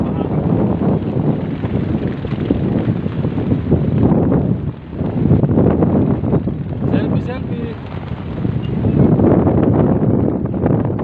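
Loud, steady wind buffeting the microphone, with dense low rumble throughout and a brief lull midway before gusting resumes.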